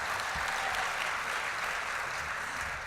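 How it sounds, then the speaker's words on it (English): An audience at the 2017 Girl Scouts Thin Mint Dinner in Denver claps in a steady, dense burst of applause filling the room, sustained evenly for a few seconds with no talking. "yes, you can applaud that"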